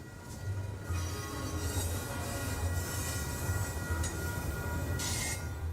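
A train rumbles steadily past nearby, with a continuous low roar, rattling cars and occasional high metallic wheel squeals.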